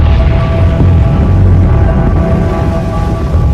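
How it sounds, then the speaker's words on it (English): A steady, heavy low rumble of Krakatoa's volcanic explosions fills the air, loud and sustained without distinct separate blasts. "Throughout the night, the explosions increased."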